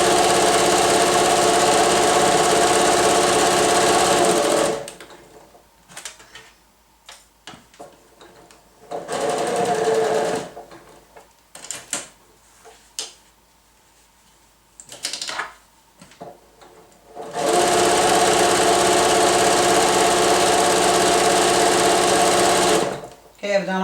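A sewing machine stitches the edges of a fabric face mask made from a T-shirt, with long, loud, steady whirring runs at the start and end and a stretch of stop-start stitching and quiet talk in between.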